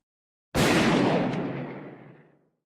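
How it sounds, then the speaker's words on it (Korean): A single loud gunshot bursts out, its booming blast rolling and decaying over about two seconds, close and alone. "총성이 작은 오두막을 가득 채웠습니다."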